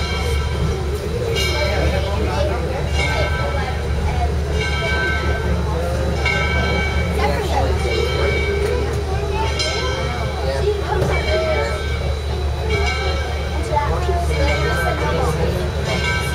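Locomotives at a railway turntable give off a steady mechanical rumble with tonal horn-like hums, while people talk nearby throughout.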